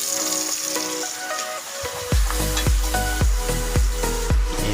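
Dinuguan with cassava sizzles in a hot pan as a spoon stirs it, with steady frying crackle under rhythmic scraping knocks about every half second after a quiet start, close and loud.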